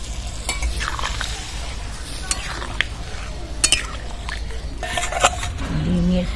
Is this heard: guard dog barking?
no